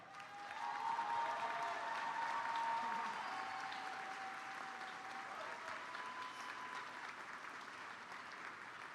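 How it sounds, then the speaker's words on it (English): An audience at a high school graduation ceremony applauding student athletes, a dense wash of clapping that swells loud in the first few seconds and then carries on steadily, gradually thinning. "Let's recognize all of these student athletes with a well-deserved another round of applause."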